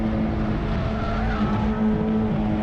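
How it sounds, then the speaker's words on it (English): Race cars fighting for grip during a Toyo Tires 2.5 Challenge race at Sonoma, with continuous engine roar and a sustained high tire squeal running steadily under the pack's noise throughout. "You can hear those tires just fighting for grip"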